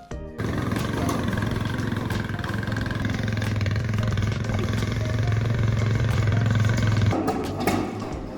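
A quad bike engine runs steadily for several seconds, dragging loads of roofing material behind it at a cowshed, a loud continuous drone with a throaty low rumble that cuts off near the end.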